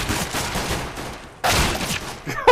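Shotgun and pistol fire in the shooter game CS:GO come as dense, loud bursts of overlapping shots, with a sharp break at mid-clip and a final hard crack at the end.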